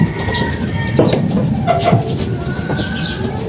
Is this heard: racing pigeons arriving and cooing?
yes